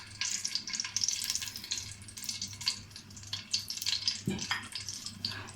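Two onions fry in half a cup of oil for a Punjabi kala chana and rice dish. The sizzle is crackling and bubbling, close and busy, with no voice over it.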